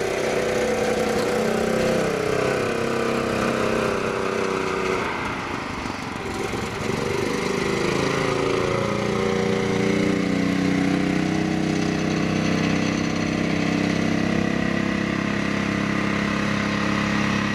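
A gasoline golf cart engine with a freshly cleaned carburetor, new fuel filter and a small replacement muffler idles loudly and steadily up close, a continuous throbbing drone that wavers slightly midway with no talking.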